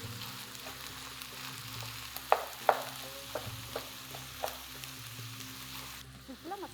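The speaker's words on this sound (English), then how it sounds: "Stir the ingredients again." Turkey and pepper filling is stirred in a pan, with a soft low sizzle and a few light scrapes and clicks of a utensil, quiet and close.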